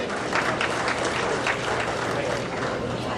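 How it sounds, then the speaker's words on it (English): Audience clapping at an auto racing awards banquet, a dense burst of applause filling the room at moderate volume, with brief voices mixed in. "Give Dave Jumper a nice round of applause and Gary Haynes for accepting."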